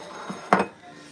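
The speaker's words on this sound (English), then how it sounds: "And then we're taking frying pan, and then we take some butter" A metal frying pan picked up and set down while making breakfast, a brief soft knock followed by one louder clanking clatter in a quiet kitchen.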